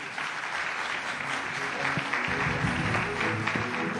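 A conference audience applauds the panelists after a discussion on India's growth. The clapping is dense and steady at moderate loudness, with faint voices mixed in.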